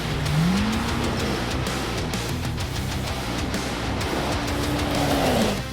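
A Polaris RZR Pro R 4-seater side-by-side with a 2-liter, 225 horsepower ProStar Fury 4-cylinder engine accelerates hard, its loud engine note rising in pitch and then climbing again after a brief dip, steady and close throughout.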